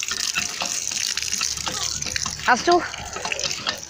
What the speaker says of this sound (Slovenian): Pustili smo vodu.